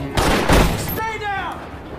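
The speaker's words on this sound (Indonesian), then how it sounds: "aksi tembak-tembakan pun tak terelakkan lagi" Several sharp gunshots from a film shootout crack in quick succession, followed by a ringing ricochet-like whine and reverberation.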